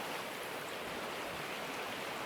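Water poured from a bucket through dirt in Gold Rush The Game, a steady broadband rushing wash like a stream, moderate and continuous without a break, with no talk.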